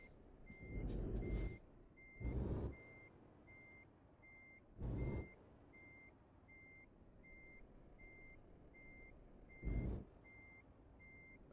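Reversing beeps from a truck in the Euro Truck Simulator 2 video game, a steady series of regular beeps under the low rumble of the engine, with occasional louder bursts of air or engine noise and no talking.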